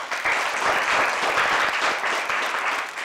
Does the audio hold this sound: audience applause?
yes